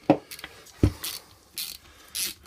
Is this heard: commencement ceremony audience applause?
no